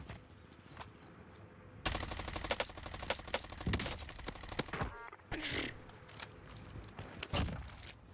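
Rapid bursts of automatic gunfire from a powerful video game gun crack out in several volleys with short gaps, loud and close, along with scattered impact and mechanical clicks.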